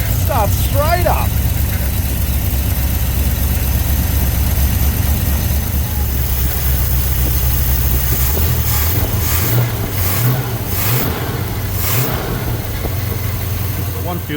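A Ford XD Falcon engine runs at a loud, steady idle just after starting, a close rumbling drone with slight shifts in rhythm and a person speaking over it.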